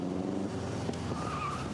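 A lightweight GN hill climb car with a 6.2 litre Cirrus Hermes aircraft engine runs at a hill climb event, its engine a moderately distant, steady drone lasting under two seconds.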